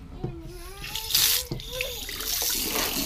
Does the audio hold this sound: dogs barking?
no